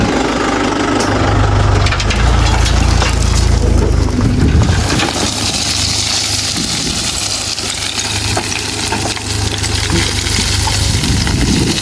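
A tractor dumps murram soil in a farm field: a loud engine drones and idles close by while earth tumbles and crunches as the load drops, clattering and scraping continuing throughout.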